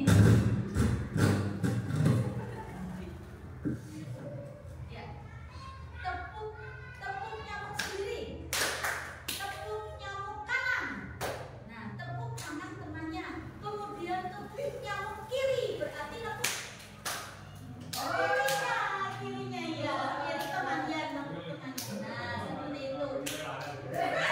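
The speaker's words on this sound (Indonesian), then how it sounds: "Jadi kita nepuk tangan kanan teman." Children playing a hand-clapping game, slapping each other's palms in quick irregular claps of varying loudness, with children's voices and chatter running underneath.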